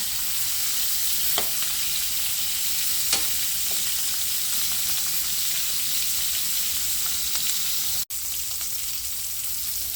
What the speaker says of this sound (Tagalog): yung pork belly na iprito na